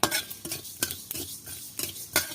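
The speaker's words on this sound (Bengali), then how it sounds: "তার জন্য আমি মশলা জিরে ধনেটা একটু ভেজে নেব" Dry cumin and coriander rattle and scrape in a pan as a utensil stirs them in quick, repeated strokes, with metallic clinks marking a steady rhythm.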